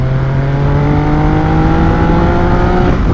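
A Triumph Triple motorcycle engine while riding, a loud continuous throaty drone with steady harmonic pitch and wind rush, close and dominant throughout, no talking.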